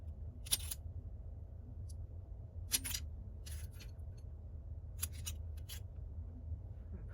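A blade slicing a polymer clay cane into three pieces in a quiet room, a few short crisp cuts spaced a second or two apart.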